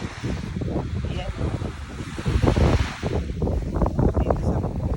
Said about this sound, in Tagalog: tingnan ninyo ang mga alon para medyo ma-relax na kayo